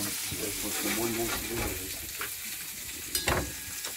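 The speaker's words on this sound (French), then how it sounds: "Le brochet que nous a pêché Guillaume aujourd'hui est en pleine cuisson." Freshly caught pike fries in a pan at a lakeside camp on Lake Inari in Lapland, a close steady sizzle with stirring and scraping, brief clatter near the end, and some talk in the background.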